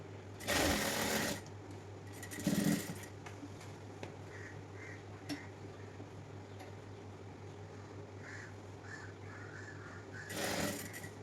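A sewing machine stitches the edge of a nighty frock in three short bursts of rapid whirring, close and loud, with quiet room hum and faint clicks between runs; no speech.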